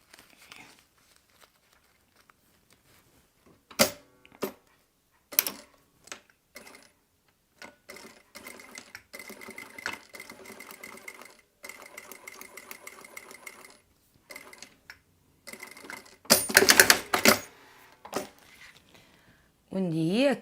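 A domestic sewing machine stitching fabric pieces for a passport wallet, running in short whirring bursts and longer buzzing runs separated by pauses, close and clear, with a louder burst near the end.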